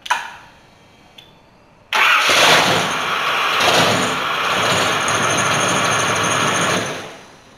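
Car engine cranked over by a cheap aftermarket mini high-torque starter: a brief whir and click, then the motor catches and roars to a loud, steady idle close by before cutting off.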